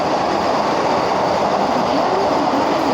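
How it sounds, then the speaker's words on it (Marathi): Steady, loud rushing roar of a Vande Bharat express train going by nearby, a continuous broadband rumble with faint rhythmic wheel clatter and no voices. "इथे वंदे भारत ट्रेन चाललेली आहे"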